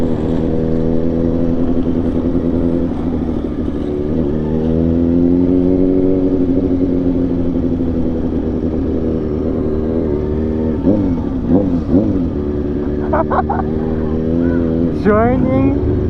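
Kawasaki Ninja motorcycle riding through a downtown street takeover alongside roller skaters and e-bikes, its engine droning steadily and loud throughout with shifting pitch and brief revs, while people talk over it.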